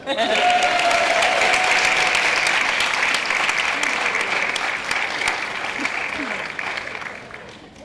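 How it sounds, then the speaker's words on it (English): Loud, dense applause from an audience at a high school senior awards ceremony, a sustained wash of clapping that slowly tapers over eight seconds, with a voice and some cheering faintly mixed in. "Give him another round of applause."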